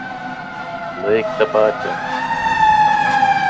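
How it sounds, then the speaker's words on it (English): A fire truck siren passes by a house. It comes through clearly as a rising, sustained wail, mixed with speech over a voice chat. A person talks briefly over the start of the siren. "he's got the fire department going by his house again"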